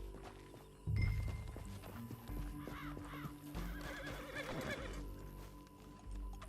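A horse whinnies loudly in Red Dead Redemption 2, then hooves clip-clop at a gallop over a busy layered game soundscape with music and effects.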